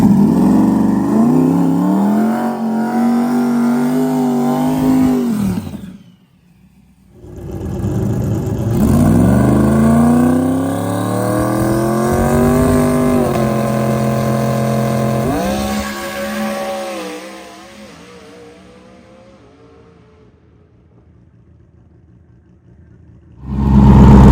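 A drag racing car, called Snot Rocket and running big tires, makes a pass with a wheelie, its loud engine rising through gears in long roaring pulls, cutting out briefly between runs, then fading into the distance.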